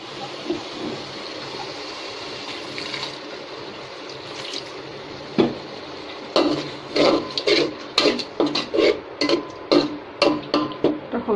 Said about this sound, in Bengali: সামান্য পানি দিতে হবে।